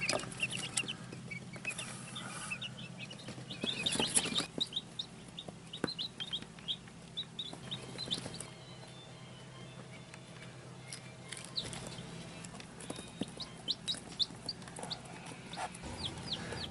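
Newly hatched chicks peep in an incubator, a stream of high, repeated chirps that come in quick bursts over a steady background hum.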